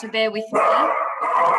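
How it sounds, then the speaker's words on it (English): A dachshund puppy barks in the background indoors, a short burst of yappy barks at the start before a person's voice takes over and continues speaking. "You can probably hear my sausage dog barking in the background."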